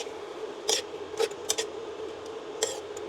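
Fried tofu and beef tongue stirred in a pan, several sharp metallic scrapes and clinks of a utensil against the pan over a low background hiss, no talking.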